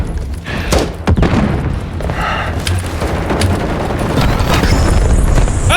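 Grenade blasts in a Call of Duty match rumble loud and close, heavy booming thuds layered over dense continuous battle noise and gunfire that fills the whole stretch without letup.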